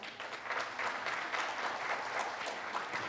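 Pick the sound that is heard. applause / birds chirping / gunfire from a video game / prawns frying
applause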